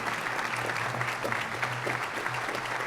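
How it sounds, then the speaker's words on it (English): Round of applause for Gary Heiman at a Good Scout Award luncheon, a dense, steady roar of many hands clapping across a large room, sustained without pause and with no voices on top. "Let's give him a big round of applause."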